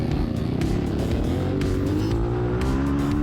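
Several racing motorcycles, including a 125, roar loudly as they close in during a race, their engines droning and rising in pitch together, steady and near throughout with no talking.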